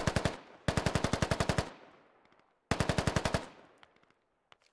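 Bursts of automatic gunfire in the Squad video game: two long rapid strings of loud shots separated by a pause, with a few scattered single shots trailing off afterward.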